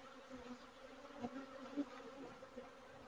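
Honeybees buzzing during a beehive inspection: a faint, continuous, close droning hum with a few individual bees passing nearer, and no talk.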